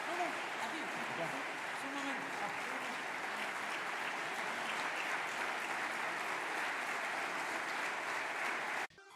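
Audience applause for Argentine President Javier Milei at an award ceremony, a steady, moderately distant roar of clapping lasting about nine seconds with crowd noise mixed in before cutting off abruptly.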